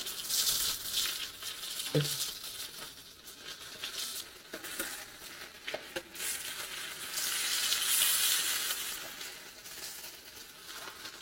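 Onions fry in oil in a pan, a soft, low sizzle with scattered clicks of a utensil and a brighter hiss swelling near the end, with no voices.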